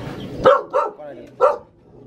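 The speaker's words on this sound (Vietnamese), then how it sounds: "báo cáo anh em đây là chó cọc đỏ nhá. đúng bản mông nguyên chất luôn" A native H'Mông red bobtail dog barks three times, close and loud, in sharp separate bursts with a short gap before the last one.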